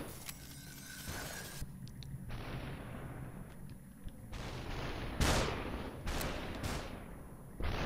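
Gunshots ring out in the first-person shooter Superhot, several sharp separate blasts spread unevenly through the stretch with short quiet gaps between them.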